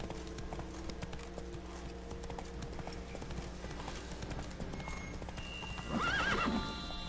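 A horse in The Witcher 3 video game gallops with steady clip-clopping hooves at moderate distance, then gives a loud whinny near the end, all alone with no talk.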